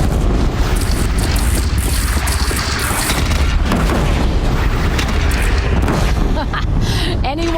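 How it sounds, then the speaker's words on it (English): Repeated cannon blasts from a fort battle in the video game Horizon Zero Dawn, loud booming explosions layered over continuous gunfire and battle din throughout. "They only have one cannon!"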